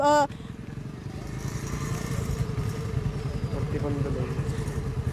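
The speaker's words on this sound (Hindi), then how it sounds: "जो लड़की है वो बाइक चलाते हुए यहाँ पर दिखाई दे रही है" A motorcycle ridden by a young woman during a two-wheeler driving test rumbles steadily with a low engine drone. It is preceded by a brief sharp tonal burst at the start, and faint background sounds sit under the engine.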